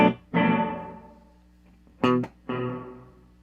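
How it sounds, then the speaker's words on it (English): A guitar played through a Source Audio reverb pedal with the pre-delay cranked up, so each struck chord is followed by a distinct delayed wash that decays slowly, four bursts in a row with no talking. "So if I crank the pre-delay up,"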